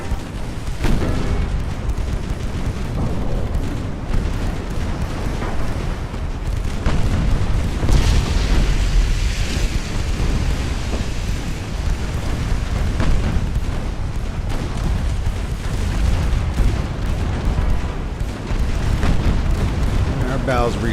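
Ammunition cook-off aboard a warship in the naval game Ultimate Admiral: Dreadnoughts: heavy rumbling booms and blasts roll on continuously beneath a talking voice, with a dense battle din throughout.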